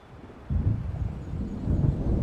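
Thunder from an approaching storm in Alan Wake rolls in suddenly as a deep, low rumble. It swells and holds at moderate loudness for a couple of seconds, with no voices.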